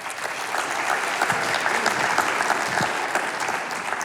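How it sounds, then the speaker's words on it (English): Sustained applause from a live-show audience fills the room, a dense wash of many hands clapping steadily at close range with no break. "Give them a round of applause"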